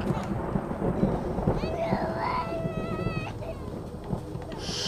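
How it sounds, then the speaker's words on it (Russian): Thunder cracks after a lightning strike in the horror video game Alpages: The Five Books, a loud, rumbling burst mixed with rain-like noise, eerie tonal game sounds and music throughout. "Шибануло молнией."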